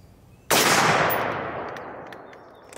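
One loud 5.56 rifle shot cracks out close by, followed by a long, broad echoing roll that fades over about two seconds.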